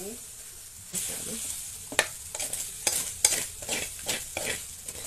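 Cooked rice stir-fried in a hot pan with egg, a bright hiss of frying under repeated scraping strokes of a spatula in an irregular rhythm, close and fairly loud.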